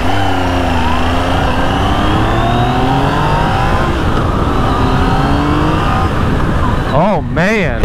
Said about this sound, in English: the characteristic of the engine, the sound of it, is very, very similar to my Street Triple RS